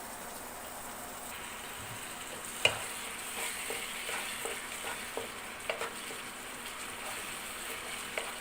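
Tomatoes cook in a pan with a steady soft sizzle while a utensil stirs them, giving occasional scraping clicks and taps over the gentle frying hiss.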